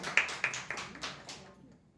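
An audience at a church service claps to welcome a speaker: a handful of sharp, sparse claps over about a second and a half, then fading to near silence.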